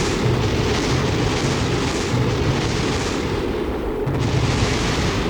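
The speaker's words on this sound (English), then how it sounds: "It's just the wheels blowing up" A spacecraft in Kerbal Space Program blows apart during atmospheric reentry, its wheels exploding. Repeated muffled booms rise out of a dense, continuous rumbling roar.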